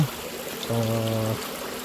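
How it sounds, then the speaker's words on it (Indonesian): A small, shallow river flows at a rocky crossing on a waterfall trail near Baturraden, Banyumas, its water low in the dry season, giving a steady soft wash broken briefly by a low tonal hum. "sekarang saya melewati sungai yang keempat ya teman-teman."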